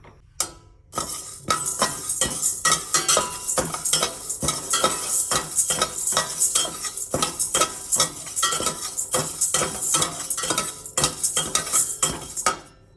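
Spices for horse gram rasam dry-roast in a pan on a medium flame. A spatula scrapes and stirs in quick, rhythmic strokes, loud and close, with metallic clinks and a faint crackle.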